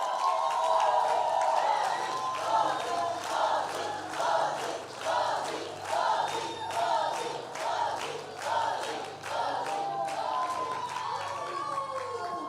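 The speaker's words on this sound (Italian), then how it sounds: "vogliamo fare un applauso speciale per la nostra leader del" A church audience claps and cheers after a Christmas musical, with rhythmic bursts of applause and crowd voices filling the hall for several seconds, loud and close.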